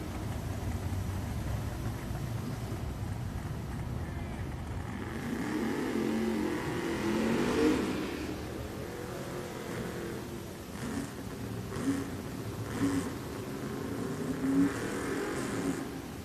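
Drag racing cars, a Chevelle and a 1980 Malibu, at Richmond Dragway, heard from a distance as engines rise in a revving surge, then fall back to a rumbling idle with short blips, over a low crowd ambience.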